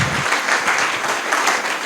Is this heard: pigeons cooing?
no